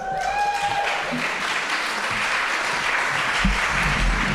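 A room full of people at a fellowship closing dinner applauds steadily, a dense wash of clapping that continues throughout.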